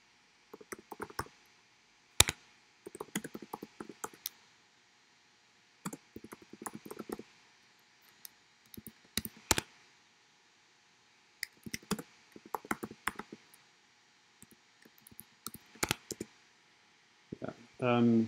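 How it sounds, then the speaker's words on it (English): Keys tapped on a computer keyboard while a note is typed, coming in short irregular bursts of light clicks separated by brief pauses, close and fairly quiet with no talk. "I'm typing here a note for something that I'm still"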